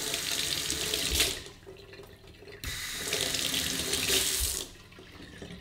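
Water gushes from a faucet fitted with a water-saving attachment, a steady broadband hiss in two bursts, each switched on and off, with a brief quieter gap between, close and alone.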